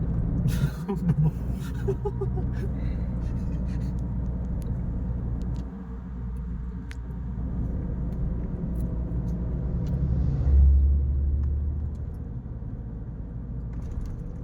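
A vehicle grinds up a steep mountain road near Vientiane, a steady loud engine rumble that swells and dips, with voices speaking faintly over the drone.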